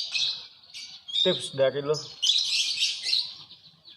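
A pet canary or lovebird gives bright high chirps and twittering trills in short bursts, close and clear, while someone speaks a few words in between.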